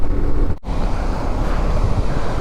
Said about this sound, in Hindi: ये वो नहर है, देखो फ्लो पानी का क्या ज़बरदस्त आ रहा है ना